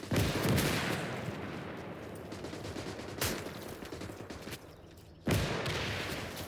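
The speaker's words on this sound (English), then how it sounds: "It's the mortars." Mortar fire rolls through a battle in Call to Arms: Gates of Hell as repeated booming blasts and crackling gunfire, with sharp hits near the start, around three seconds and at five seconds.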